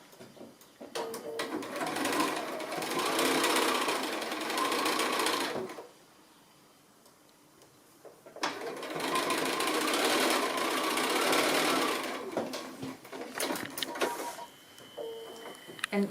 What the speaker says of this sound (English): we just need to stitch across the centre here, making sure that seam does nestle in the middle